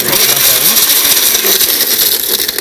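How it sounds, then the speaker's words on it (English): A blender whirs loudly and continuously, blending a strawberry lemon shake with a steady high-pitched motor roar, close and alone. "We could turn the blender on and make a fantastic shake."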